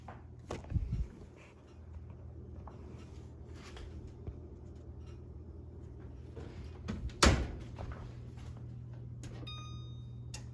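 An oven door thuds shut once, a short solid knock, after chocolate cake pans go in to bake in a home kitchen, with quieter knocks and handling before it and faint kitchen hum around.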